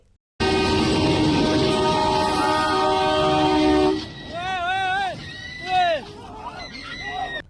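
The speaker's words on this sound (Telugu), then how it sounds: "ఇంగో రైలు పోతున్నది ఇట్లా" A train passes close by with a loud, continuous rumble and long horn-like tones for about four seconds, then fades as voices talk.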